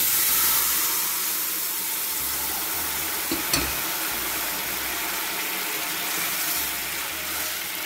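Jackfruit-seed chilli curry is poured into hot fenugreek tempering with the flame turned off, giving a steady, broad sizzle that holds evenly throughout, with no talking.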